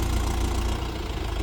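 A Mahindra tractor engine runs at a steady idle, a loud, low, continuous rumble with slight knocking, in the middle of a muddy field.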